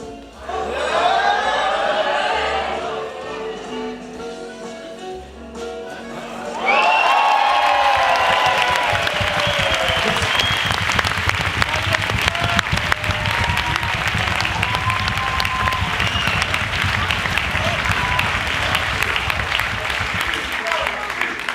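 A gala show audience in Poitiers (2016) bursts into loud, sustained applause and cheering that carries on without a break for about fifteen seconds. Before it there is a stretch of voices and quieter crowd sound.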